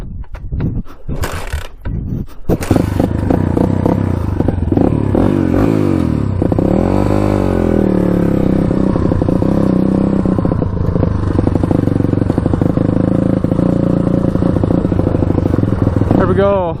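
A Honda 200X three-wheeler, running on two wheels, sets off on a road after some loud clattering and scraping. Its small engine then revs and holds a steady, buzzing drone up close, with some talking mixed in.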